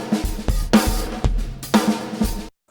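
Drum kit room track sent alone through an aux bus: roomy, somewhat noisy kicks, snare hits and cymbal wash in a steady groove of about a dozen strong beats, fairly loud, with no voices.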